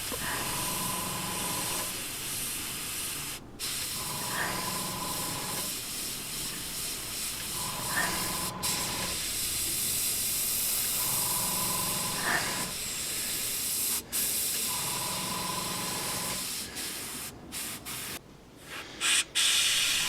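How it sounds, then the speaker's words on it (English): A Harder and Steenbeck Infinity CR plus airbrush sprays paint in short repeated bursts of close, airy hiss, each lasting a second or two and separated by quieter gaps of compressor hum, with a few sharp clicks near the end. "I'm just going to spray in between the two lines that you see on the 2p coin"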